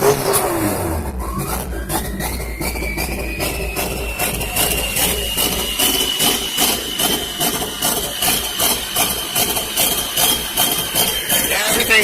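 A turbocharged Honda G23 VTEC car engine idles while warming up, a loud, close, continuous rumble with a rising turbo whistle and rapid rhythmic pulsing throughout, no voices over it.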